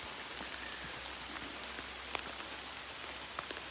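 Steady rain from a large storm patters down in a constant wash in woodland, with a few louder individual drops striking close by; no voices.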